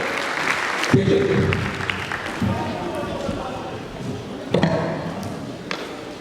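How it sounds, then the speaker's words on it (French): An audience at a student talent show applauds the coordinator, with clapping swelling in bursts around a voice addressing the room, rising sharply at the start and again near the end. "Applaudissements, mesdames et messieurs, Babacar, le coordonnateur."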